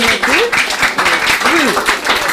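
A church congregation applauds in praise during a gathering honouring a woman, with steady crowd clapping under singing or voices throughout.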